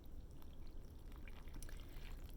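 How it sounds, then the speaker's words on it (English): Water pours steadily into a bowl of cornstarch while mixing oobleck, a soft, quiet trickle heard without speech. "So I'm going to pour this in."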